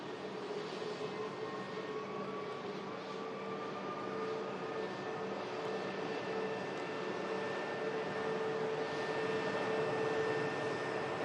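A Eurowings Airbus A320, about 14 years old, touching down on the runway, heard as a steady distant jet roar with whining engine tones that swell slightly toward the end, with no voices.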